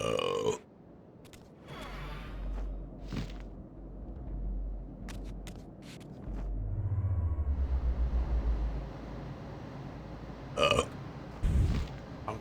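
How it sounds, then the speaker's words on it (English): A single low, rumbling burp sits under a quiet background of low hum and scattered clicks, faint and fairly close, with a few brief sharp sounds later. "I burped so."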